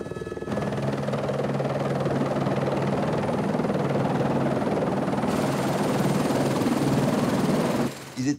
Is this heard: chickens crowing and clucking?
no